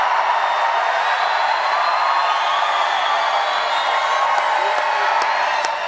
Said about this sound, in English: Look at this crowd. Look at this. This is amazing.